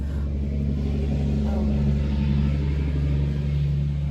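A dump truck rumbles past outside, a steady loud low engine drone with deep rumbling that holds throughout, with no voices over it.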